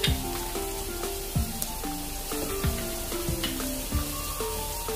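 Minced meat (keema) fries in a pan with a steady sizzle, joined by occasional sharper pops and faint tonal ringing throughout.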